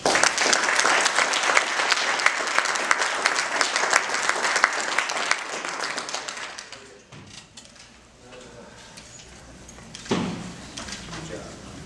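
Loud, sustained clapping from a large crowd at a school board candidates' event fills the first several seconds, then fades out, leaving quiet room noise and a brief thump near the end.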